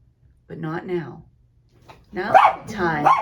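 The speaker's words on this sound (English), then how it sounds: "that's my dog thinking he has to bark at somebody" A dog barks indoors in two short bursts of yappy barking, close and moderately loud, with a person talking around it.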